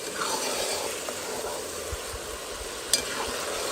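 Sausage sauce for zambrovates simmers without water in a pot, giving a steady close frying sizzle with light stirring scrapes and one sharp clink near the end.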